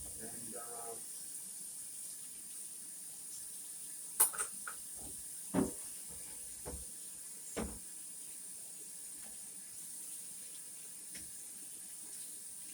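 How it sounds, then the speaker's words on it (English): Water from a kitchen tap runs into a sink while a cutting board is washed, a steady faint wash of flow with a few soft knocks and clatters scattered through. "I'm gonna go ahead and wash these dishes here, or my cutting board, should I say?"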